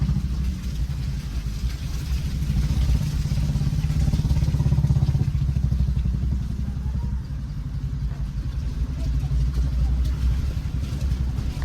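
Motorcycles and cars grind along a muddy, slippery road to Bijli Mahadev near Manali in the rain, a steady close engine drone with clattering and idling, while a voice talks over it.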